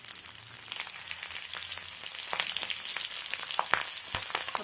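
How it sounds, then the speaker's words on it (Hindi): Green chillies, slit lengthwise, fry in hot oil with a bay leaf while cooking a restaurant-style mixed vegetable and paneer dish, giving a steady close crackling sizzle with sharp pops scattered throughout. "हरी मिर्च डाल देंगे।"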